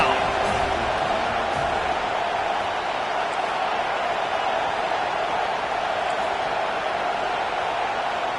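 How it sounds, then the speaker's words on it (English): A home stadium crowd in the College Football 25 video game roars steadily on a third-down play, a dense, constant wash of cheering that holds at an even level throughout. "Here comes this home crowd as the defense tries to get off the field on 3rd down."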